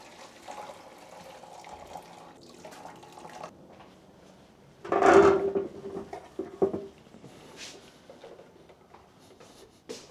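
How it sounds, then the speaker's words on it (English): Soup for a lamb hot pot is poured into a hot pot cooker, a short liquid splash and gurgle in the middle of quiet kitchen background with light handling sounds. "I need to pour the soup into the hot pot cooker."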